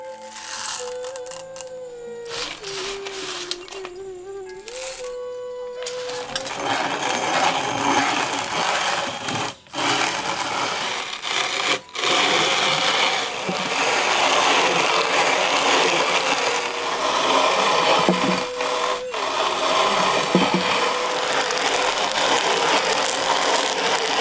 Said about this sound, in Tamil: இப்படி ஆற வச்ச காப்பி கொட்டைகளை இப்ப நல்லா அரைக்க ஆரம்பிச்சிருவோம்.